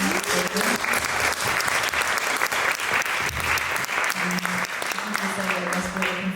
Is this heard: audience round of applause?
yes